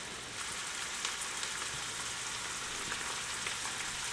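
Oil and onion sizzling in a pan for eggplant casserole, a steady close hiss that starts abruptly and holds evenly with light crackles throughout.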